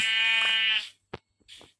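A single drawn-out sheep bleat from Minecraft, loud and close, followed by a few short faint clicks and thumps of game activity.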